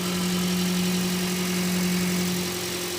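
A Toyota Corolla with a 1ZR engine idling steadily, a constant close-up hum with a firm low-pitched drone and no breaks throughout.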